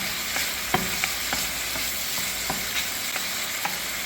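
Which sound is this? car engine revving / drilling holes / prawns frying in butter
prawns frying in butter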